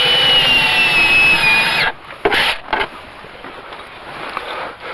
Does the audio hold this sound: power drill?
yes